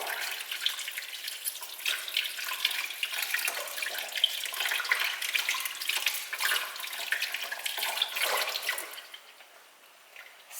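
Dishes and a drinking-straw cleaning brush being scrubbed under a running kitchen tap, a steady rushing hiss of water with small splashes and clatter for about nine seconds, then the flow stops.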